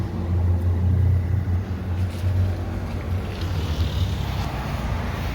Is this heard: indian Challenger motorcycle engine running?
yes